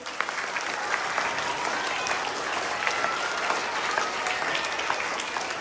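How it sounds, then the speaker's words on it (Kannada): A school audience claps loudly and continuously for a celebrated teacher's students, a dense, steady burst of many hands close by with faint crowd murmur underneath. "ಜೋರಾಗಿ ಚಪ್ಪಾಳೆ ಕಾಟಿ."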